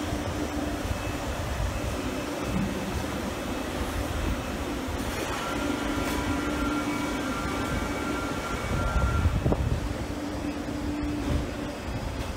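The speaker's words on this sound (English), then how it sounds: "Train now" A class 444 passenger train pulls into a station, a steady low rumble with rising wheel and rail noise and a brief screech near the end, heard fairly close with no talk.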